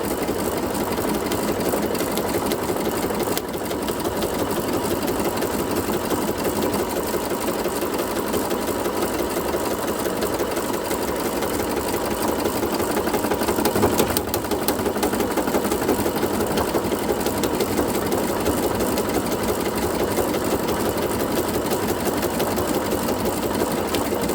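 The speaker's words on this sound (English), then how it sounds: "my buttonhole maker is down. And so bring my needle down, I'm gonna hit start, and it's gonna start making the buttonhole" A sewing machine with a buttonhole attachment stitches a buttonhole in dress fabric, a steady close mechanical whir and rapid needle clatter running unbroken throughout.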